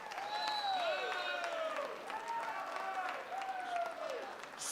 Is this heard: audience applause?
yes